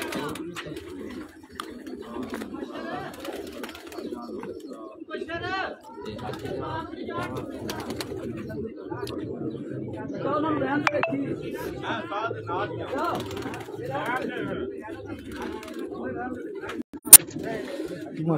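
Pigeons coo steadily in low, throaty bursts, with faint chatter and scattered clicks around them and one sharp tap near the end.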